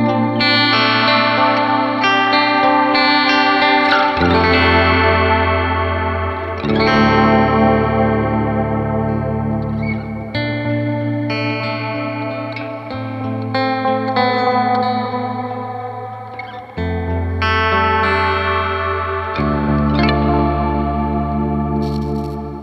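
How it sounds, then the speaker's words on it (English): Electric guitar run through an EarthQuaker Devices Mercury 7 reverb pedal, sustained chords washing into a deep, shimmering ambient reverb with long swelling tails, loud and unaccompanied by voices. "we can introduce the Mercury 7 for some deeper interstellar ambience"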